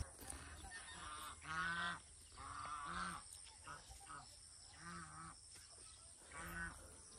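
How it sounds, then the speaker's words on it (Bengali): Ducks in a village yard on a morning call nearby in about five or six honking, quacking bursts that come and go over low background noise. "আর হাঁস ওইদিকে খেলাধুলা করছে।"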